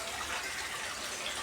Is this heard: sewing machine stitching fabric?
no